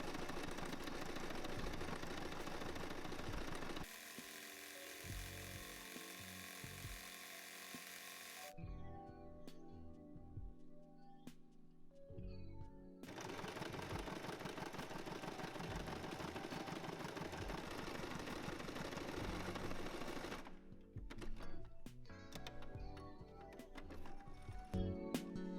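Electric sewing machine running a sideways stitch along a trouser seam, a steady whirring buzz in long runs that shift pitch and speed, with short stops between them, close and moderately quiet, with no voices.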